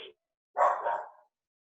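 A dog gives a single faint bark, short and muffled, after a brief quiet gap, with nothing else around it.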